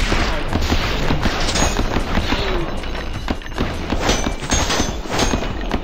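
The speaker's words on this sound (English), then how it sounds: "Oh, SMG." In a video game shootout, SMG fire rattles loudly and continuously in dense rapid bursts with booming shots mixed in, filling the whole stretch.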